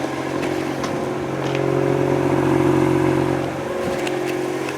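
A Mazda RX-8 rotary engine idles after a cold start with the hood open, a steady close hum that swells slightly in the middle before settling back.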